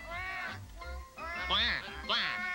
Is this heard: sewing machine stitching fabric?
no